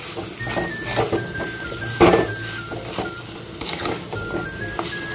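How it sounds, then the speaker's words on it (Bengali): Fried potatoes tossed in a masala in a pan, a loud steady sizzle with scraping stirs and a sharper clank of the utensil against the pan, no voices. "আলুটাকে দিয়ে 3-4 মিনিট খুব ভালো করে কষিয়ে নিয়েছি"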